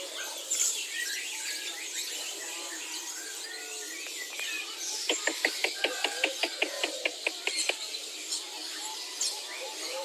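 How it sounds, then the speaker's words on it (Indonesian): Hill myna calling: scattered squeals and chirps, then a rapid run of about a dozen sharp, evenly spaced notes in the middle, fairly close over faint background noise. "Itu burung beo namanya itu Mbak."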